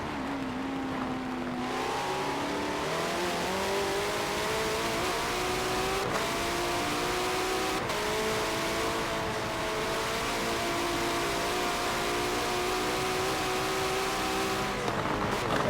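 Race cars lapping the Nürburgring in a racing video game, a near-constant engine drone with shifting pitch as the cars rev and change gear, several cars packed close together, loud and continuous.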